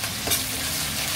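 Onions and ginger-garlic paste sizzle in a pan for a Kerala-style surmai fish curry, a steady close frying hiss broken by one brief scrape of stirring.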